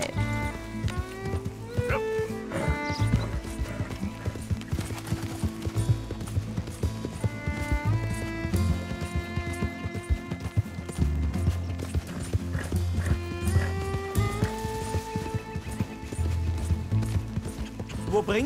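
Rhythmic clip-clop of horse hooves in the video game Red Dead Redemption 2, steady trotting beneath a layered musical score with occasional mechanical clicks.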